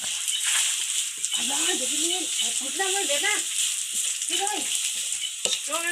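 Chili paste ingredients for a traditional Thai nam phrik narok fry in a pan with a steady hiss, under a voice talking throughout.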